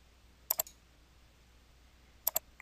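A computer mouse clicks twice in quick succession in Excel 2010, then after a quiet pause another crisp, close double click follows.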